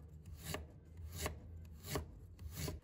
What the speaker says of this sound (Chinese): 生姜切成片